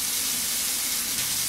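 Water runs steadily from a tap during tooth brushing, a continuous close hiss that stays even throughout and has no talking over it.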